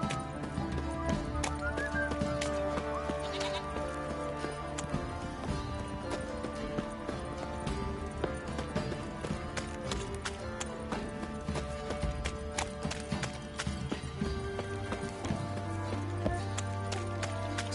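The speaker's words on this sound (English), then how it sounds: "Time to water the horses." Horses clip-clop in The Witcher 3 video game, a steady rhythmic run of hoofbeats close by, mixed with game sound effects and a low tone near the end, with no talk.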